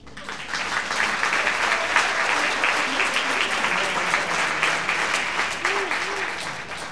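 Sustained audience applause fills a community storytelling performance hall, steady dense clapping throughout with occasional cheers and whoops rising above it.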